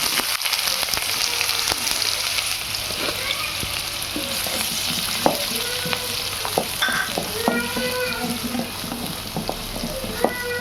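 A large onion sautés in hot oil for a vegetable stuffing, a loud continuous sizzle with repeated scraping and stirring strokes and scattered light clinks of a utensil against the pan.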